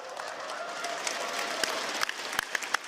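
A large live crowd at the Rainbow Six Siege Invitational 2018 esports final applauds and cheers after an announcement, with a few sharp claps standing out near the end.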